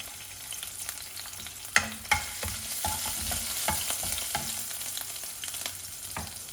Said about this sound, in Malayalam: എണ്ണ ചൂടാക്കി കഴിയുമ്പോൾ നമുക്ക് ആദ്യം തന്നെ ഇഞ്ചി ഇട്ട് കൊടുക്കാം